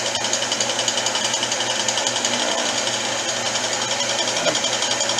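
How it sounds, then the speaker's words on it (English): An aluminum knob is finish polished on a powered buffing or polishing machine after sanding with 220 wet/dry sandpaper, giving a steady, loud mechanical whir with a fast rhythmic flutter that runs unbroken throughout, with no talking. "I'll bring you in for some finish polishing"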